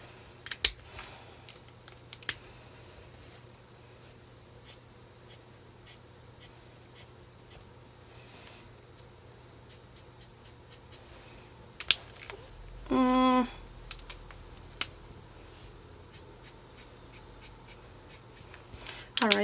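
Archer and Olive paint pens scratch and tap against sketchbook paper in quiet, irregular strokes with sparse clicks. A brief louder scrape or rattle comes midway, and there is no talking.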